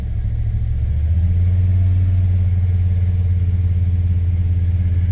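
A Jeep Cherokee ZJ from 1996 to 1998 with 280,000 miles idles close by with a steady, low, even rumble. The engine settles slightly after the first second and then holds constant.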